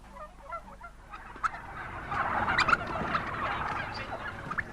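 A flock of commercial hybrid turkeys gobbles in overlapping bursts, a close, busy chorus that swells and stays lively throughout.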